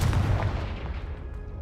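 A single Confringo blasting spell from Hogwarts Legacy detonates with a heavy, booming blast that rumbles and decays over under two seconds, with no voices.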